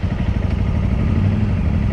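A motorcycle engine is heard close and loud, giving a quick throttle blip with a rough, pulsing mid-range growl and no talk over it.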